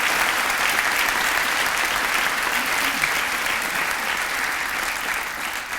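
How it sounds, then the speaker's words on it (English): Audience at a leadership awards ceremony breaks into a huge round of applause, dense sustained clapping that fills the room at full volume for several seconds, with a few voices faintly mixed in. "give them just a huge round of applause right now for putting this event"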